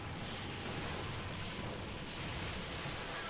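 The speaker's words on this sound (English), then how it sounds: "Let's see if we can detonate this." A bomb detonates in the game Monster Hunter 3 Ultimate during a hunt of the sand-swimming monster Jhen Mohran, giving a dense, sustained roaring blast with broadband rumble that fills the whole moment, with no voices over it.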